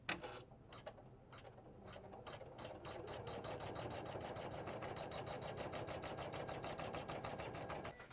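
A Janome 500e embroidery machine sewing a tack down stitch on fabric, starting with a few clicks, then settling into a steady, fast mechanical whirring and rattling that runs evenly throughout, close and moderately quiet.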